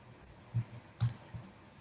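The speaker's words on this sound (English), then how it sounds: "you can right click on it" A computer mouse clicked a few times at a desk while working in CLO garment design software, with two sharper clicks and a softer one spaced under a second apart against faint room hiss.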